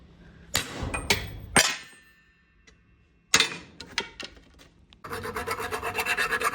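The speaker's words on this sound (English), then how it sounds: "it's pretty much just cleaning up any burrs that happened when I was chiseling out the old bushings" A file rasps on metal in short bursts as burrs are cleaned off a car subframe bushing sleeve, a few separate strokes and then a steady run of rhythmic filing toward the end, close by with no talking.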